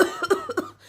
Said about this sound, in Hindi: कम से कम ऐसे मत खांसो